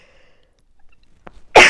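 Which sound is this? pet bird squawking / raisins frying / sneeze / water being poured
sneeze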